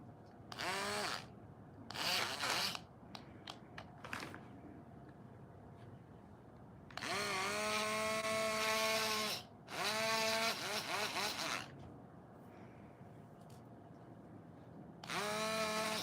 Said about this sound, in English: it's just a little drill because I need to make that hole a little bit larger